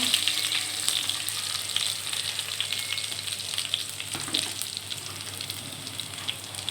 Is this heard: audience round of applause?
no